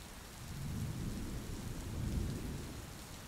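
Steady heavy rain with low rumbling thunder swelling and fading throughout, loud and continuous, with no voices over it.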